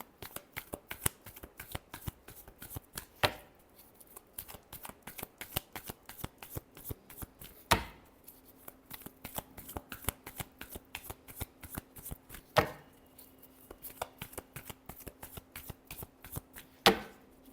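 Playing cards shuffled repeatedly for a tarot-style reading, a long run of crisp, rapid riffling clicks with a few louder slaps as the deck is squared, close and alone with no talk.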